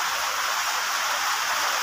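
Rain falls steadily during construction of a house in the Philippines, making a bright, even hiss of drops that continues without a break and with no voices.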